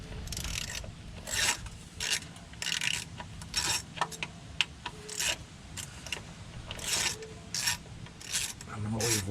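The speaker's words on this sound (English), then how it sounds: "Let me take this bolt off." Metal bolt on the transmission pan of a 1998 Chevy Silverado K1500 being backed out with a ratchet, giving repeated short rasping clicks in bursts, close and fairly quiet against a low steady background hum.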